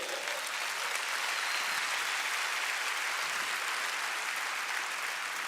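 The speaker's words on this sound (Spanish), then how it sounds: "Denle un aplauso a Jesús que no pecó." A church congregation applauds steadily, a dense, even wash of clapping from many hands that holds at a constant level throughout.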